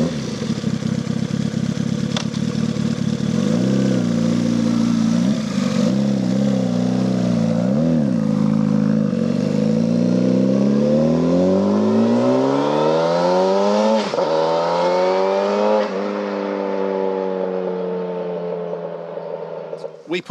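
A 1991 turbocharged Suzuki GSX-R motorcycle engine with a custom silencer runs loud and close, revving in rising and falling swells before climbing steadily, with voices talking over it.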